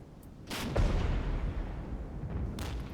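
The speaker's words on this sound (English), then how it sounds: "Let's order some fire from our own artillery to silence our enemies" Artillery fire in the war game Regiments: a few heavy booming blasts, one near the start and a sustained rumbling barrage after, with distant crackling gunfire through the battle.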